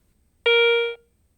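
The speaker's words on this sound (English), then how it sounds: "The large silver coin still produces a bell tone signal" A Garrett Ace 350 metal detector sounds a single clear bell tone for a large silver coin: one loud, pure ringing beep about half a second long, cutting off cleanly into quiet.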